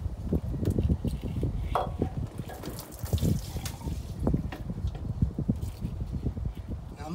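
Fluid from a step van drains into a drain bucket, a continuous close splashing trickle with irregular spattering bursts and no clear talking.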